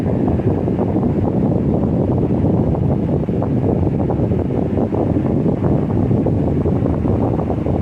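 A Lasko 18-inch remote-control stand fan blowing air, a steady close whooshing rush with faint gusty pulsing, no voices.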